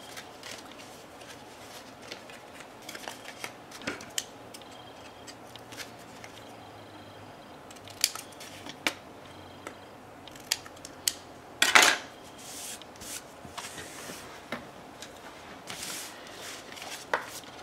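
Scissors snip paper tabs at an angle while making a pop-up baby album page, giving sparse, quiet crisp cutting clicks with irregular gaps and a few louder snips, and no speech.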